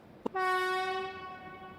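Polish train horn giving the RP1 warning signal: after a short click, one loud, sustained, harmonic-rich blast lasts over a second before trailing off, heard alone.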